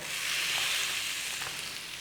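Flour cooking in melted butter in a pan gives a steady, close sizzle with soft crackling throughout, and no voices are present.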